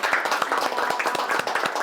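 A small group clapping briefly at the close of an office meeting, a quick, fairly close patter of hand claps lasting under two seconds.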